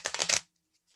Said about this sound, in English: So let me mix the cards up. I'm going to shuffle them up here.